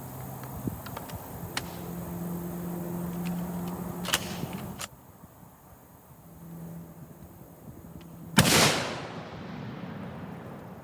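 A .50 BMG rifle fired at an armor faceplate gives one loud, sharp report with a decaying tail, preceded by several fainter cracks and clicks in an otherwise quiet outdoor setting.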